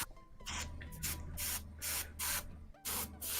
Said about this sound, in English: Getting the old spray on the go.